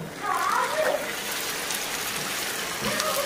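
Marinated chicken pours into a hot pan, a short wet splashing sizzle that settles into a softer crackle, close by, with a voice talking over it.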